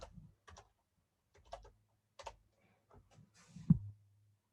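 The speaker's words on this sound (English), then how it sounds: "We're going to type that in again." Computer keyboard typing, a few scattered clusters of quiet keystrokes with pauses between them, entering a linear equation, close and alone with no talk.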